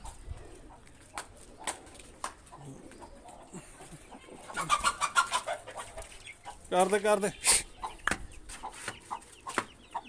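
Hens cluck in bursts, some loud and close, as they are shut in for the night on a farm with chicks around. People talk and call out intermittently in between.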